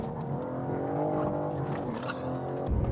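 A 2021 BMW M4 Competition slides with its rear end stepping out, the engine holding a steady loud drone with a strained tire edge. Sound comes from close by and continuous for about three seconds, with no talking.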